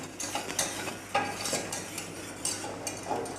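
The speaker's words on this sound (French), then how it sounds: "Nous pouvons voir notre roux. Nous le faisons cuire une trentaine de secondes" A white roux of flour and butter cooks in a pan for béchamel sauce while being stirred, giving soft repeated scraping strokes at a steady rhythm over a faint background hum, close and quiet.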